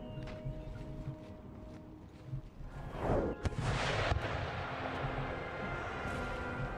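Cannon fire in the Empire Total War battle game, with a cluster of heavy booms midway through that roll out over a rumbling battlefield ambience, sounding at moderate distance.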